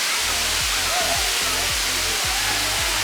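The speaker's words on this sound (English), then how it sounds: "Now arrived at the Namuang waterfall and there are 2 waterfalls" Namuang waterfall 1 on Ko Samui, Thailand, pours as a steady, broad roar of rushing water close by, with faint low rhythmic thumps running underneath.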